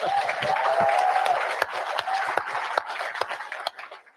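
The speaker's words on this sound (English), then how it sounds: "Let's give Dave a round of applause." Broadband clapping from a group fills the room steadily, then thins out and fades toward the end, with faint murmuring underneath.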